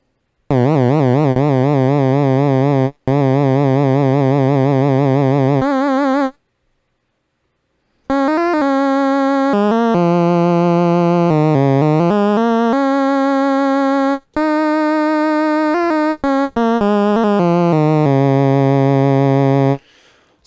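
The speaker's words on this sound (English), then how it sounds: "So that's a good vibrato sound, pretty classic sounding." A VCO synth tone wavers with LFO vibrato, a loud sustained buzzy note whose pitch wobbles steadily, broken by short gaps and shifts to other pitches with changing vibrato depth and speed.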